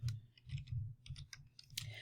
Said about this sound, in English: So I'm going to just type in the box.